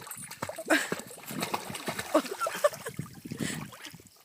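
A dog plays in a stream at Ribeirão das Lajes, with close, busy splashing and sloshing of water in quick irregular bursts.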